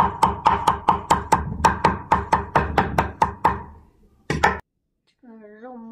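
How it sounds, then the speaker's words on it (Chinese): A knife chops wood ear and shiitake mushrooms on a board, about fifteen quick, even, sharp strikes close up, then a brief pause and a couple of final chops before a voice begins talking. "现在把它剁碎。"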